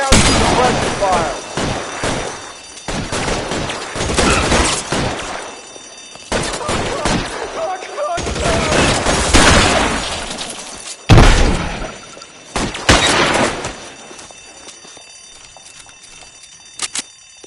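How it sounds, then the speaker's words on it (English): Suppression gunfire in the LA Noire video game: dense, loud volleys of shots in repeated bursts with sharp cracks and brief gaps, some voices mixed in. "I'll lay down some suppression fire."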